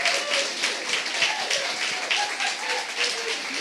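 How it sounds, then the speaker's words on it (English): Applause from a live audience for a competition winner at a Girls With Goals event, moderate dense clapping with a few cheers and voices, steady over a few seconds. "Big round of applause for Ali."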